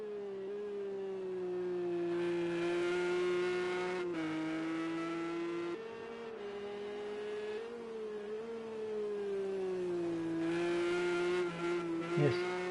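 A Porsche race car in Project CARS 2 at Watkins Glen holds a steady, droning engine note that rises and dips with gear changes and throttle, loud and continuous, with a brief squeal near the end.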